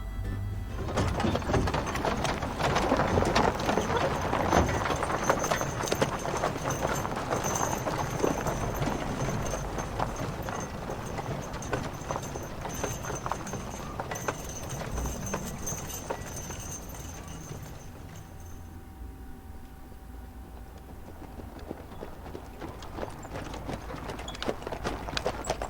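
Horse hooves clip-clop in a steady, brisk rhythm in the video game Manamon 2, running continuously before fading and thinning out near the end, with no talk over them.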